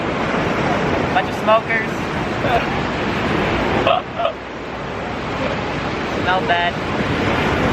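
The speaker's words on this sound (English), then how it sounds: "We out here at the beach." Ocean surf rolls steadily with wind buffeting the microphone on a beach, a continuous broadband wash with brief voices talking over it now and then.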